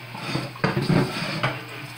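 A metal pot set down into water in a kitchen sink, giving a few clanking, sloshing knocks, the loudest near the middle and another shortly after, close by with no talking.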